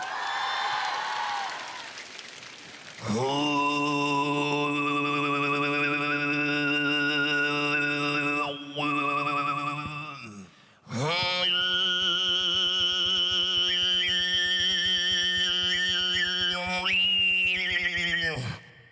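Mongolian khoomei throat singing performed live on a concert stage, a loud sustained drone with a whistling overtone melody above it, held in two long phrases after brief crowd noise at the start.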